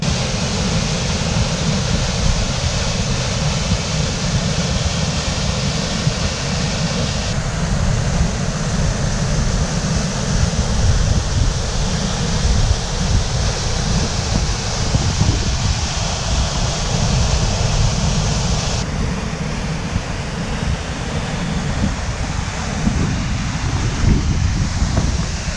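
Water pours through the automatic siphon of Markonahalli Dam, a loud, continuous broadband rush that holds steady throughout, with no voices.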